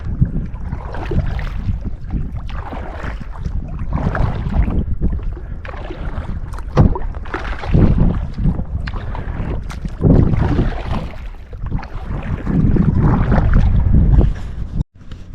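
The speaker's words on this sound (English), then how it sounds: "Just paddling my way out of here" Rhythmic canoe paddle strokes splash and swirl through water, with gusts of wind buffeting the microphone, steady and close throughout.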